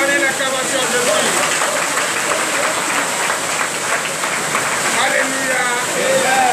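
A church congregation at a Sunday worship service in Comè, Benin applauds in a loud, sustained wash of clapping, with voices calling out faintly beneath it throughout.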